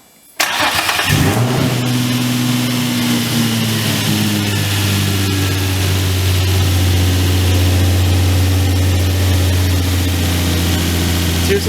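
Infiniti G35 with a homemade cold air intake fires up after a short silence, then settles into a steady, deep idle hum that stays loud and close throughout.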